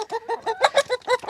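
Several cage-free egg-laying chickens cluck in quick, close succession, short throaty bursts repeating rhythmically.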